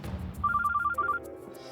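A telephone rings with a quick, trilling electronic burst of repeated beeps, fairly close and clear, lasting about a second.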